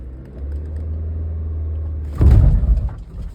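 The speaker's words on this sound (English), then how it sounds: "That was a more dramatic stall." Manual-transmission car idling with a low steady rumble, then a sudden loud lurch and shuddering judder as the engine stalls, followed by a fading rattle.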